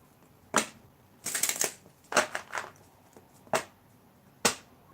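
Cards being shuffled in several short riffling bursts separated by pauses, crisp and close, with no talking.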